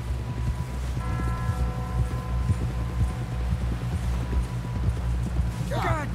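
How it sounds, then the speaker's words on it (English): Steady horse hoofbeats in the video game Red Dead Redemption 2 clip-clop beneath a low hum while voices talk over them, with a faint brief whinny near the end. "Someone help John down off this horse."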